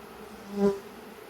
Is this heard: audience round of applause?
no